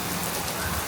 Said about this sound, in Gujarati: બહુ ઝાઝો અચાનક વરસાદ આવી ગયો